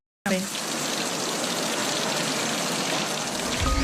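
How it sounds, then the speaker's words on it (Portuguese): Steady rain pattering against a window glass, a continuous even hiss that starts abruptly and holds at a constant moderate level with no voices. "barulho de chuva e barulho da chuva batendo na janela"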